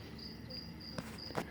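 Crickets kept as feeder insects for reptiles give a faint, steady high chirping trill that cuts out briefly now and then, with two soft clicks near the end and no talking.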